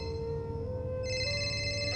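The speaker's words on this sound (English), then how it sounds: "the phone started ringing again, with the blaring alarm sound banging my eardrums" A telephone rings with a blaring, steady electronic alarm tone, sustained and shifting pitch partway through, heard indoors at moderate volume under a low background hum, with no talk.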